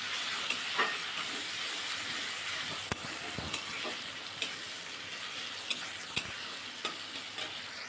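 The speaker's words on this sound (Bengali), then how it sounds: "টমেটো কুচি দিয়ে আবার একটু ভালো করে নাড়াচাড়া করে নিচ্ছি।" Chopped tomato fries in a pan for a Bengali rui fish curry, a steady close sizzle and hiss broken by repeated scraping stirs of a spatula, with no talking.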